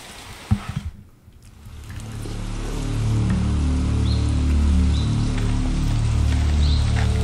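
Rain in the Metal Gear Solid video game falls as a steady, dense patter under game ambience, fading in after a few sharp clicks and building to a continuous wash.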